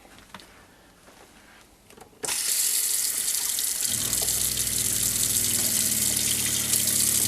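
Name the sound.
water running from RV sink faucet with pump on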